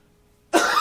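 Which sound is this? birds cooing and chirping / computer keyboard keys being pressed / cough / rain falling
cough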